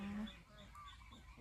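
Ducks on a rural Thai duck farm, one of them penned up, let out faint, short honking quacks over a low murmur, with a human voice nearby.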